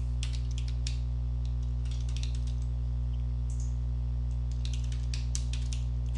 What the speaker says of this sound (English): I'm just typing in any address